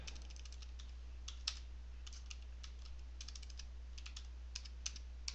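Light clicking of typing on a computer keyboard, a quick irregular patter of keystrokes with a few sharper taps, faint and close over a steady low hum.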